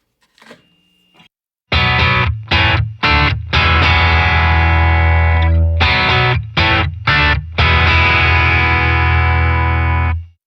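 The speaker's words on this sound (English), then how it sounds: "So I'm going to switch my voice selector all the way to the back and engage the noiseless pickup right here at the bridge" Bright clean electric guitar chords on a Fender noiseless bridge pickup ring out in short strummed bursts separated by quick stops, then sustained strums, loud and close with no talking.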